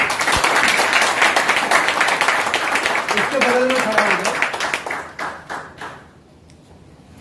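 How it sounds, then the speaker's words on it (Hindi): Audience at a business marketing seminar clapping loudly, a broad burst of applause under someone speaking that fades out toward the end. "अभी ये आया जोरदार ताली के साथ।"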